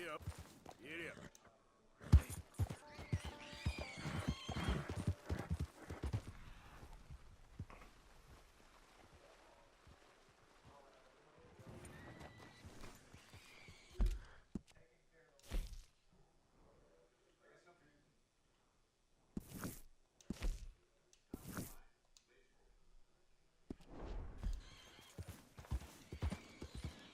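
Horse hooves clip-clopping in a video game, arriving in rhythmic stretches between quieter gaps, with a few sharp louder hits and a whinny-like sound among them.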